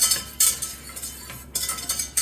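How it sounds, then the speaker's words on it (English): A whisk stirring flour into a roux in a pan gives bright metallic scraping and clinking strokes, in three bursts with quieter gaps between, close and clear, without talk. "I'm gonna give that a whisk"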